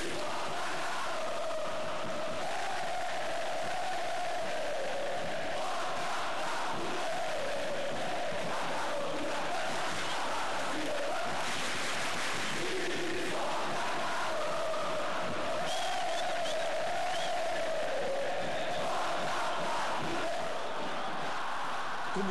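Galoucura football supporters in a stadium chanting their battle cry, a massed crowd singing in a steady rhythmic chant with clapping, loud and sustained for the whole stretch.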